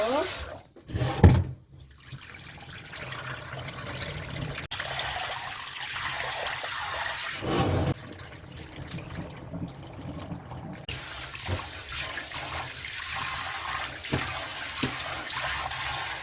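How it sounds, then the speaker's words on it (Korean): Soaked glutinous rice being rinsed in water for sticky rice, with running water from a tap and sloshing in bursts, and a voice talking in between. "찹쌀을 불렸으면 한 2번 정도 헹굴 거예요"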